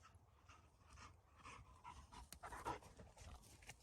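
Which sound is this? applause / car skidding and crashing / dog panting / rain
dog panting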